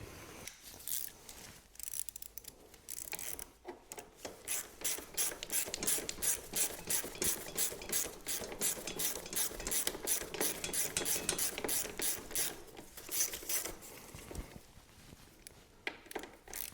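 A hand ratchet snugging brake caliper bolts with Loctite on a Honda CB500X motorcycle, rapid close clicking in long runs of strokes with brief pauses between, with no talk.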